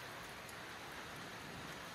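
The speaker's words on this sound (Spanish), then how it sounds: "Ahí pueden ver la banqueta mojada y la lluvia corriendo." Steady rain falls in Sonora on a wet sidewalk with runoff flowing, a dense, even hiss of drops on the surface that holds at a soft level throughout, with no voices.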